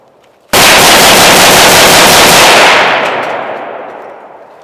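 A loud blast as gunfire sets off a tannerite target outdoors: an abrupt, massive boom that holds for about two seconds and then rolls away in a long fading rumble, with no voices.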